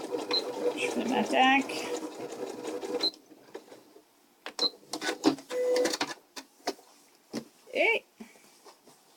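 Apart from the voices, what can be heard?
sewing machine stitching a seam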